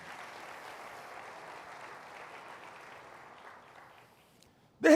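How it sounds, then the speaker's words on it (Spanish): A church congregation applauds during a sermon, a sustained, moderately loud patter of many hands that slowly thins and fades near the end, cut off by a brief loud burst. "Dale un aplauso al Señor."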